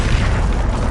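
A loud, dense burst of spell explosion in the Hogwarts Legacy video game, a sustained booming roar with heavy low rumble filling the whole moment, no talking.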